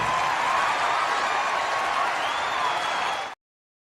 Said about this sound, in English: Let's give him a round of applause for that one.